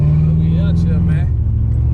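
A Chevrolet Monte Carlo SS engine drones steadily and loudly from inside the car while driving, a constant low hum with a slight pitch change partway through and a voice speaking over it.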